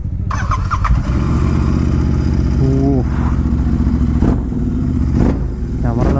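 Royal Enfield GT 650 motorcycle with new clutch plates on a test ride: a steady, loud engine drone runs throughout, with brief revving swells and a short squealing tone near the middle.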